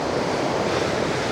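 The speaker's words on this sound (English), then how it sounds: "The wind's blowing up the valley." Wind blowing up a valley on the Arctic tundra, a steady broadband rush that stays loud and close with no gusts or breaks, like constant buffeting on a microphone.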